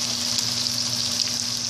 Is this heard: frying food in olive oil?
yes